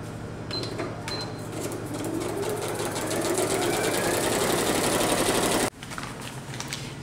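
A sewing machine runs in one steady, fast stitching burst while sewing around a paper foundation quilt block. The whirring and clatter carry on for several seconds, then the machine briefly stops and restarts.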